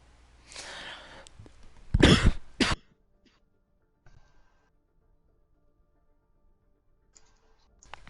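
A short burst of harsh coughing, two or three rough hacks close to the microphone, followed by near silence with faint small clicks.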